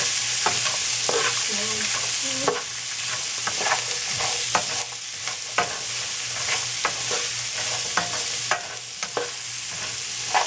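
Celery frying in oil in a pan for an Indian-style sabzi, a steady loud sizzle with repeated close spatula scrapes and stirring clicks throughout, no voices.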